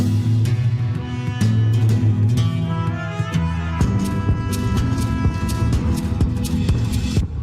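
Loud, dense music with steady throbbing percussion and sharp repeated hits, brassy tones layered over a low sustained bed, playing continuously with no voices.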